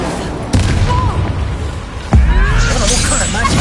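A fire spell blast from Incendio in the Hogwarts Legacy video game, heard as two loud booming bursts over a dense battle din, with a speaking voice mixed in.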